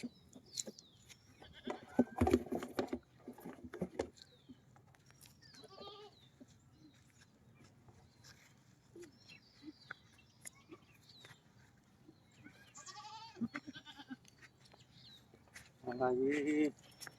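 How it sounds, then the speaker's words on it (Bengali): A tethered goat bleats several times at close range amid scattered farmyard bird calls, while people talk intermittently. "ছাগল তো এনে বান্ধা আছি"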